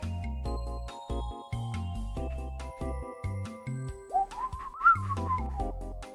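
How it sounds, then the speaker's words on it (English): A person whistles a song over a backing track of steady repeated synth chords, the thin wavering whistled melody rising toward the end. "That was the worst whistle I've ever done"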